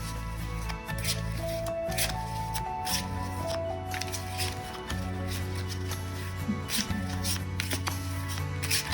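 Close-up tarot cards shuffled in repeated quick riffles and slides, with a soft hum and faint background sounds underneath.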